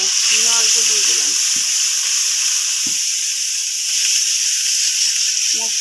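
Spices hiss and sizzle steadily in hot oil while being sautéed for a koi fish curry, a continuous bright frying noise filling the whole stretch, with a few brief spoken words and clinks near the start.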